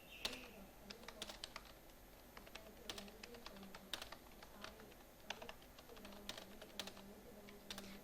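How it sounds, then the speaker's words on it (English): Typing on a computer keyboard, with steady, rapid key clicks in an uneven rhythm over a constant low hum, close and fairly quiet. "So I am going to type some text here."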